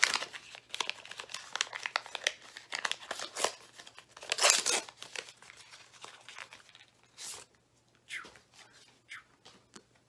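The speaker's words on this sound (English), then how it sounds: "I just tear the package open." A 2021 Panini Chronicles football trading card pack torn open by hand: close, loud crinkling and ripping of foil wrapper in dense bursts, easing into sparser rustles and crackles.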